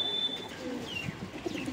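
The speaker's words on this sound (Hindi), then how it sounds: "ये देखो जी कलसरा कबूतर, नस्लों में कबूतर है।" Kalsara pigeons cooing faintly in a village loft, soft low coos with a few chirps over a quiet background.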